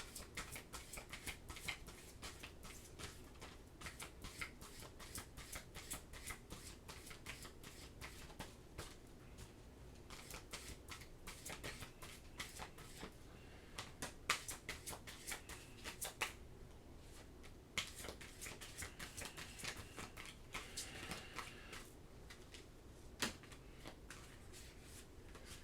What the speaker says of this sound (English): once I really get shuffling this deck down, I'm gonna be an expert.